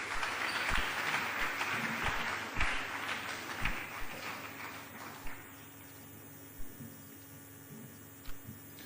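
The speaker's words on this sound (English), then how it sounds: "Please give him another round of applause." Audience applause at a Ghanaian nation-building government briefing, a sustained crowd of clapping that gradually thins out, with a few louder claps standing out over a steady background hum.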